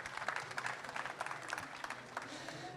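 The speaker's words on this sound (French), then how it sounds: "Sous vos applaudissements." Applause from a conference audience welcoming a guest onstage, a soft, somewhat distant patter of many hands clapping that holds steady throughout.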